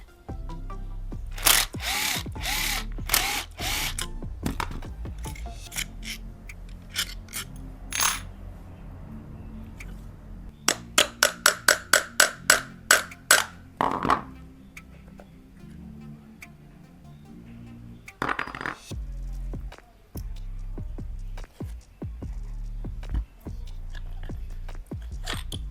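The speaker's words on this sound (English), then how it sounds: "I'll disassemble the pump to take out the motor inside." An old RO water pump is taken apart by hand to get at its motor: close, irregular clicks, taps and clatters of plastic and metal parts, including a fast burst of sharp knocks in the middle, with no talking.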